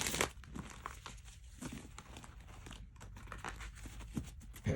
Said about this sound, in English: I'm just going to do a quick shuffle here.